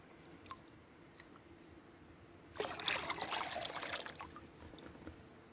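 Water sloshes and splashes as a container of baby frogs and snails is rinsed out, a sudden burst of pouring and swirling that starts midway and tapers off, close and fairly loud over quiet background.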